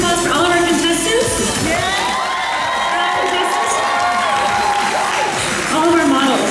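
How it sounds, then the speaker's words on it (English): A crowd at a fashion show cheers and claps with whoops and shouts mixed in, a dense, steady wash of noise at moderate distance. "Please give another round of applause for all of our contestants."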